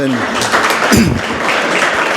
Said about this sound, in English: Ask that a round of applause for our city and county leaders